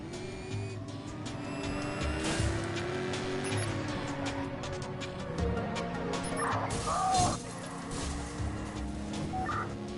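Car engines roar and rev during a police chase in the Watch Dogs video game, with tire noise and clattering impacts as a car crashes, loud and continuous throughout.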